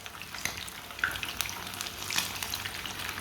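Chicken frying in oil in a pan makes a steady, close crackling sizzle with scattered pops and spits throughout.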